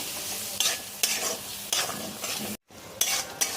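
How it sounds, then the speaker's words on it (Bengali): Tomatoes and onions with salt are stirred and sautéed in a hot pan, with a steady sizzle broken by repeated scraping strokes of a spatula and one brief pause. No voices are present. "এখন আমি এগুলোকে ভালো করে একটু কষিয়ে নিচ্ছি।"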